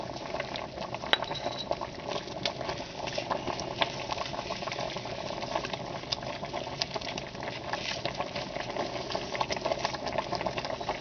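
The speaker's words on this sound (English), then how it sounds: "And now we'll let it cook." Soup bubbles and simmers in a pot, a steady close crackle of boiling liquid with scattered small pops throughout and no voices.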